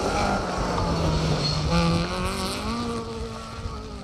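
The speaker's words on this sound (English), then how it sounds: "Mark II Escort" A Mark II Ford Escort historic rally car drives sideways across a mixed tarmac and gravel stage, its engine roaring loudly and continuously with rising and falling pitch as it accelerates past at close range.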